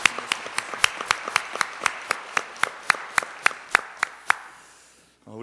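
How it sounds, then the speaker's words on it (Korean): A church congregation claps together for the choir at a Sunday service in a steady, even rhythm, sharp beats repeating for several seconds before stopping. "우리 호산나 찬양대 격려하면서 우리 박수로 같이 한번"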